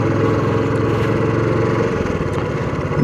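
A motorcycle engine runs steadily at close range on a congested, damaged road, with a constant mid-pitched drone and no speech.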